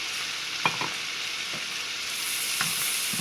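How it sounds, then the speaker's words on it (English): Onions cook down in a pan of partly cooked scalloped potatoes with bacon, giving a soft, steady sizzle with a few faint stirring clinks, moderately quiet and alone. "we're going to go ahead and add in our onions. I'm going to allow those to cook down."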